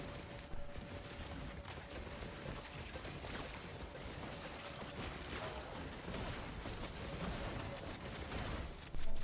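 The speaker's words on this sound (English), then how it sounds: "There we go, detonations." Detonations in the video game Risk of Rain: a dense, unbroken barrage of crackling blasts and rapid gunfire-like pops runs the whole time, ending in a sudden louder burst.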